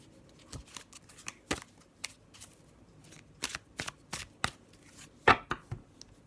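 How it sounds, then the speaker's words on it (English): Everyday Witch tarot cards are shuffled and laid down, with quick riffling flutters and sharp slaps of cards landing close by, in bursts separated by brief pauses. "I'll put down one of these lovely Everyday Witch cards"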